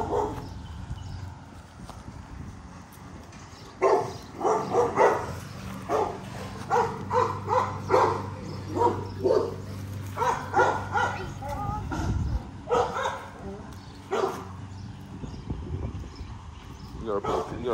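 Pitbulls attacking a German Shepherd off leash in a residential yard, with loud bursts of barking, snarling and yelping in rapid clusters over constant background noise, while someone talks throughout.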